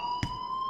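A steady electronic alarm rings in the Life is Strange video game, a sustained high tone held evenly throughout, broken briefly by a short dull knock.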